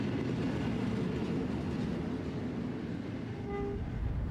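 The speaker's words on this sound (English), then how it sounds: "A train trip to the Barossa Valley, the South Australian homeland of fine wine and good living." A South Australian country passenger train rolls steadily along the line, a continuous rumbling roar with a brief faint horn-like tone near the end.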